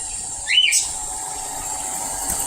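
Pet birds give a short pair of chirping calls in reaction to a Roomba robot vacuum, set against a steady whirring hiss of the running machine indoors.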